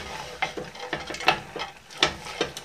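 White beans with thyme and savory stirred in a cocotte pot, giving irregular wet clinks and scrapes of the spoon against the pot with a faint sizzle beneath, close and alone.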